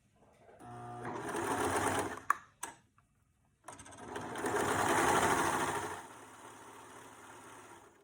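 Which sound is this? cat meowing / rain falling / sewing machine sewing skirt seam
sewing machine sewing skirt seam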